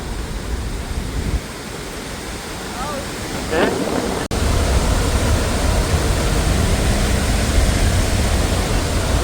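Athirappilly waterfall in Kerala roars up close as a dense, unbroken wash of falling water, loud and constant, with a brief dip in level partway through.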